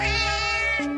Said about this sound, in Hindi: अरे देखो, ये बिल्ली रो भी रही है।